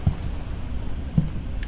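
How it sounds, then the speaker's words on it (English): Steady rain falls in a scary video game, a soft continuous patter with a couple of dull thuds near the start and middle, no voices. "Just the rain."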